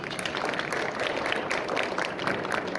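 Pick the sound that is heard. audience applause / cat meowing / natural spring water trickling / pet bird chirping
audience applause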